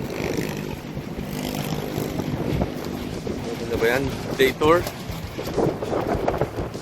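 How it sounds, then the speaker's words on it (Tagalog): Strong wind buffets the microphone in a steady, heavy rush, with people talking over it and a few louder gusts, at a fish market in Real, Quezon. "Lakas ng hangin. Hirap maligo."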